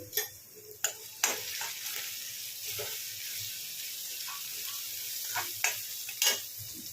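Onions fry in a pan with ginger garlic paste and turmeric, a quiet steady sizzle broken by sharp scrapes and taps of a spoon as the mixture is stirred.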